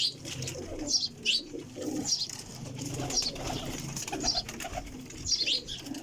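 Pigeons coo in repeated short phrases at a loft where young birds are kept, fairly close and clear against a soft background, with no one talking.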